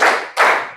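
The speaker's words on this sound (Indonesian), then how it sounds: "coba tepuk 1, tepuk 2, tepuk 3," A classroom of students claps together in a counted pattern: two loud, sharp group claps in quick succession, the crowd of hands slightly ragged, close and with no talking.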